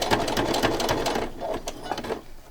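A sewing machine stitching through thick fabric stiff with wet glue, a fast steady mechanical chatter of needle strokes that slows and softens toward the end, close and loud.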